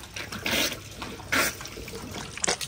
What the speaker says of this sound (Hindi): मैं भी जाके कुरली करता हूँ